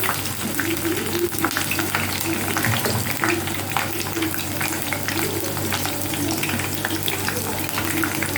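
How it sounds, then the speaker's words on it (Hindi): Onion pakoras with curry leaves fry in hot oil, giving a loud, steady crackling sizzle that runs unbroken throughout with no talking. "ये मैं साथ में कड़ी पत्ता डाल रही हूँ ताकि इसका फ्लेवर ज़्यादा आए।"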